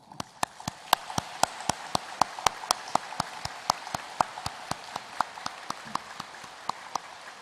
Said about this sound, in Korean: 한번 감사의 박수만 하겠습니다